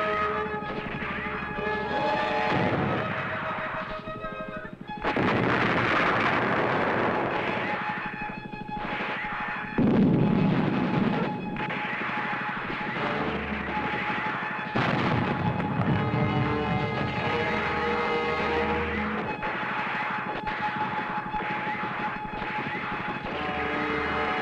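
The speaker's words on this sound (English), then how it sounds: "With artillery fire." Artillery fire in the monster film A*P*E, heavy booms every few seconds over a loud droning roar like aircraft engines, with a sustained tonal layer running underneath.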